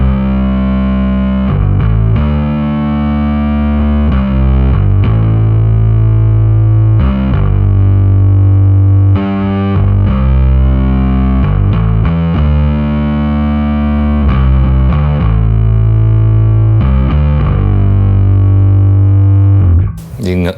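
Bass guitar through a heavy fuzz distortion effect, the stage sound used in a chorus part of a song during a performance, plays loud, gritty sustained notes and shifting lines for about twenty seconds with no other sounds.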